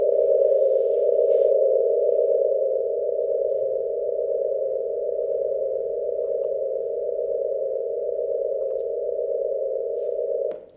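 Sonified vibrations of a sun-like star form a steady, loud droning tone that holds almost unchanged for about ten seconds before cutting off abruptly.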